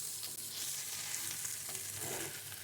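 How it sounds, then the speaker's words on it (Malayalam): Egg and broccoli stir-fry in a pan, a dense close sizzle with faint scraping of stirring throughout, no one speaking. "ഈ മുട്ടയും ബ്രൊക്കോളിയും നന്നായി ഒന്ന് മിക്സായി വരണം."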